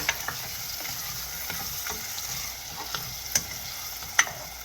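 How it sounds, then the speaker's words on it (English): Okra simmering in a pan for Jamaican cooking, a soft continuous sizzle and bubbling with occasional light clicks and taps of a utensil, fairly quiet and without voices. "So I just let these simmer a bit."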